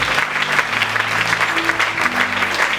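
Church congregation clapping during a Sunday worship service, a steady dense wash of applause filling the room, with low sustained musical tones underneath.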